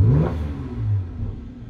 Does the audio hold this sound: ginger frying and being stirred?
no